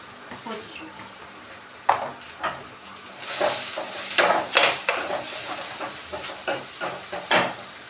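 Spice masala roasts in a pan for dal, giving a soft continuous sizzle with repeated scraping and stirring clatter of a utensil against the pan, close and moderately quiet, with faint talking in the background.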